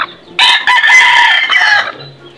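A brooding hen that has been sitting on eggs for four days gives a loud, close, drawn-out call lasting nearly two seconds, with no talk over it.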